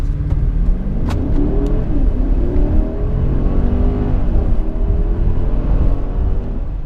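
A 2020 Mercedes-Benz GLS 580 4Matic with EQ Boost mild hybrid accelerates hard, its engine note loud and steady with rising harmonics as it gathers speed and a constant whir of tyre and road noise, with no talking.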